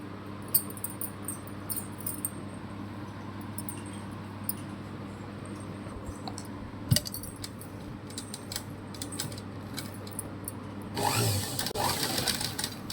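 A sewing machine with a single presser foot stitches the lining of a boat neck blouse, a faint, steady mechanical whir with small clicks, rising to a louder burst of running at the end, with no voices.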